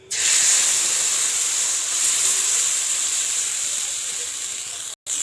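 Egg batter for thin pitha fries in hot oil in a wok, giving a loud, steady, close hiss that briefly cuts out near the end.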